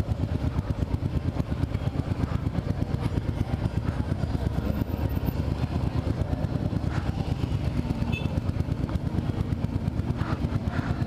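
A motorcycle engine putters steadily at low revs, its rapid rhythmic thumping loud and close throughout, with faint background noise.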